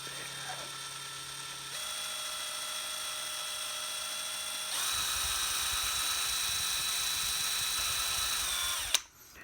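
Close, steady high-pitched whine of a handheld power rotary tool heavier than a Dremel, held at constant speed, stepping up in pitch and loudness midway before cutting off with a clunk.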